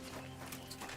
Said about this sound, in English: Somebody untied the horse and led him along.